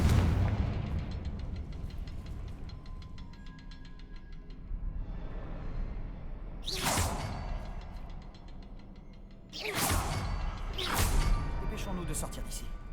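Confringo fire spell blasts cast in the Hogwarts Legacy video game, two loud bursts each with a bright whooshing explosion, under game ambience with a player talking around them.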